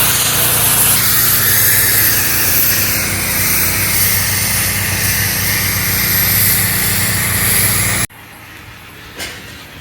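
A loud, constant roar of pressurized steam jetting from a pressure washer onto chewing gum, steady for several seconds before cutting off abruptly, leaving quiet room sound.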